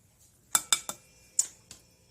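A utensil clinks against a bowl while sweetheart cookie dough is mixed, making five sharp, close taps in a quick irregular rhythm over near silence.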